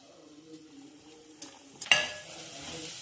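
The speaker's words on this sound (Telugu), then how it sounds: "కొన్ని పచ్చిమిర్చి వేసి ఒక 2 మినిట్స్ కలుపుకోవాలి." Green chilies and moong dal fry in a pan for a radish dal curry, with low soft sizzling broken by a few sharp stirring scrapes near the end, close and fairly quiet, no talk.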